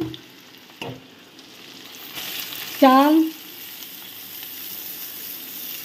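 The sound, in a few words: ginger and bay leaf frying in a pan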